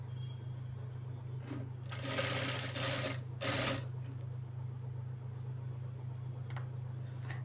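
A sewing machine stitches the slit of a child's lehenga blouse. The motor hums steadily throughout, with two louder stitching bursts near the middle, and no voices are heard.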